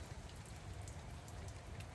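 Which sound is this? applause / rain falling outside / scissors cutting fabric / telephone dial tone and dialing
rain falling outside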